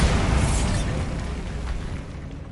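A Bombarda explosion spell goes off in Hogwarts Legacy: one broad, loud, rumbling blast right at the start, its boom slowly decaying over a couple of seconds with a low roar underneath.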